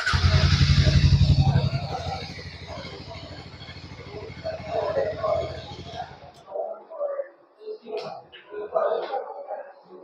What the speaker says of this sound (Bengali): একবার আপনাদের এর ইঞ্জিন আর এক্সস্টের সাউন্ড আমি শুনে দিচ্ছি।